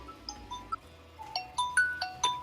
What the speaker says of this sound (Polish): Ja ci zaraz pokażę, jak ja mam dzwonek